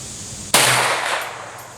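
A single loud M1911A1 pistol shot cracks out on an outdoor shooting range, a sharp close report followed by a long decaying echo, with no talking.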